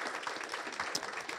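Audience applause closes a diplomacy talk program featuring an ambassador: a dense, steady patter of clapping hands from a seated crowd, moderately loud, lasting the whole brief moment with no voices over it.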